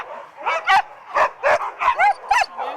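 Sled dogs, running on sand with a kart in place of a sled, let out a rapid series of sharp, high barks and yips, about eight bursts in quick succession, close and loud with brief gaps between.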